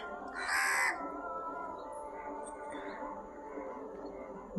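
A single loud crow caw bursts out early from a tree in the evening, then only faint outdoor background and distant bird noises follow.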